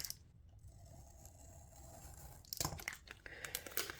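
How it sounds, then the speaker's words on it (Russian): A Panini Spider-Man sticker pack is opened, with a low rustle of foil packaging and then a louder burst of crinkling and tearing near the end. "Давайте откроем вот такой вот пакетик."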